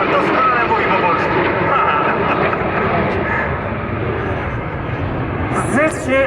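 Frecce Tricolori aerobatic jet, the solo aircraft, roaring past at a 2011 air show with a loud sustained broadband engine rush and a pitch sweep near the end, while an announcer talks over it.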